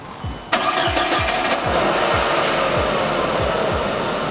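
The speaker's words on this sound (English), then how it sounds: "Now you're gonna run the car, shift it through the gears" An Audi 1.8T engine cranks with a quick starter whir, catches with a loud burst, then settles into a steady, rhythmic idle close by.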